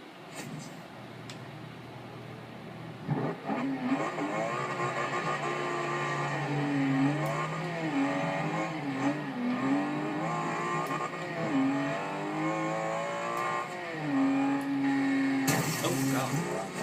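A 2013 Aston Martin V12 Vantage S in the Forza Horizon 2 racing game drones steadily, its V12 revs rising and falling in smooth sweeps, loud and continuous throughout.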